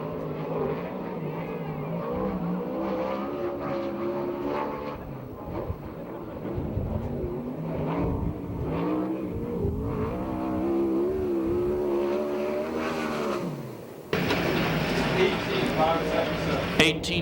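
A USAC/CRA sprint car running a qualifying lap at Perris, its engine droning and shifting pitch steadily throughout, with a race announcer talking over it nearly the whole time.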